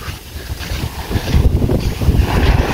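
Steady rushing wind and surf at the shore, a broad continuous roar of sea and gusting air with no voices.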